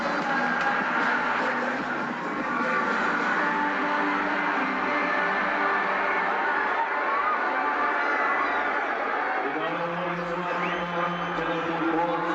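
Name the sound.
cricket crowd cheering the Bolts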